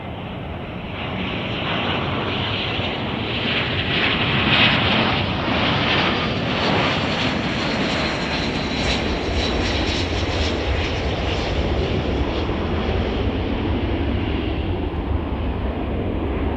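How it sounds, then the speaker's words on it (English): An airliner arriving from Austin, Texas passes at O'Hare in Chicago, a steady jet engine roar that swells slightly and holds throughout without talk. "But this is our flight from Austin, Texas."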